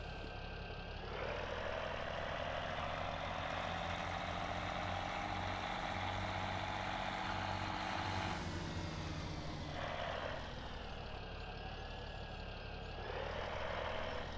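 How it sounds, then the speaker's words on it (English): A John Deere 4630 tractor engine in Farming Simulator 17 drones steadily, with a low rumble and whining tones that rise and fall as the revs shift, loud and continuous with no speech. "This is a John Deere 4630 here, by the way, for those of you who wonder what tractor this is."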